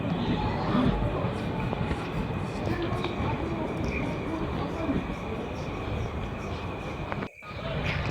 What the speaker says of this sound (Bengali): এই আমাদের ট্রেন ছিল।